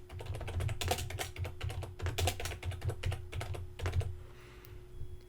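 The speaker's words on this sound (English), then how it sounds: "for title, I'm going to type in Bright Brain Creative" A title is typed on a computer keyboard in a quick, uneven run of close, crisp key taps with short pauses, ending in a brief quiet moment.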